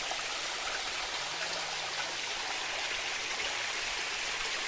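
Steady roar of rushing water, continuous and broadband, heard nearby from the top of Sunnapugadda Waterfalls in a forest near Seethampeta, with no voices.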